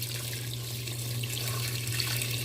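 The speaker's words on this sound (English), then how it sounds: "So I'm adding some hot boiling water to my pressure cooker." Hot boiling water pours steadily into a pressure cooker holding cubed meat and red beans for Jamaican stew peas, a continuous close splashing rush with a low hum underneath and no talking.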